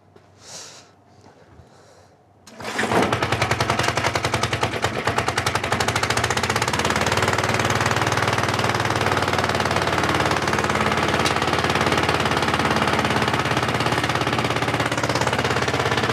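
A restored vintage lawnmower engine coughs into life after a quiet pause, then settles into a loud, rapid, continuous chattering run that holds steady for over ten seconds.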